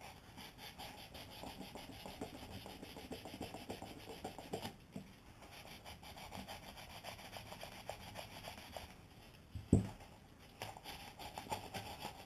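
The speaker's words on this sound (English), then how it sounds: "We're going to use some 400 grit sandpaper and some 600 grit sandpaper to smooth" Steady rubbing and scraping of 400 and 600 grit sandpaper worked back and forth over a Smith & Wesson M&P polymer trigger guard, close and faint, in continuous strokes with a brief knock near the end.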